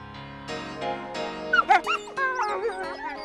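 Greyhounds at a race track whine and yip in a short, high-pitched series, close by and fairly loud.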